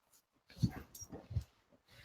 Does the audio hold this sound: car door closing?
no